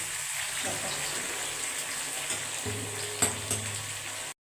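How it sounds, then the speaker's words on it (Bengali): Dried red chillies and ground cumin frying in hot oil for a raw mango pickle: a faint, steady sizzle and hiss that runs throughout, with a couple of soft clinks near the end. "এই তেলের উপরে শুকলা লঙ্কা সব দিয়ে দিবে আর একটু বটা জিরা দিবে"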